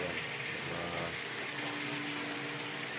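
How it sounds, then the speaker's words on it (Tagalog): A pool filter pump motor runs at a resort in Tagaytay City, giving a constant close hum and rushing water noise that stays steady throughout with no talking. "Yan, tumutunog yung tubig. Yan motor, pinapandaran ko po ng motor yan."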